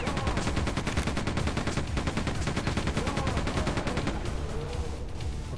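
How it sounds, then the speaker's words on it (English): Continuous rapid gunfire from the video game Quake II, a dense stream of shots rattling on loud and unbroken throughout with no pause. "Who the fuck's shooting?"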